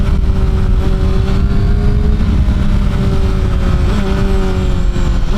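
A 2017 Honda CBR 1000 SP2 sport motorcycle engine drones loud and steady under throttle, a continuous close-up roar with a sustained tone that holds through the whole stretch and shifts slightly near the end.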